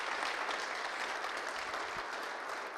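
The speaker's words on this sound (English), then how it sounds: "let's give another round of applause to Mayor Christian Price for his dynamic, very first State of the City Address" Audience applause following a mayor's 2013 State of the City address, a dense, even wash of clapping from a large crowd, sustained at moderate distance with no voices over it.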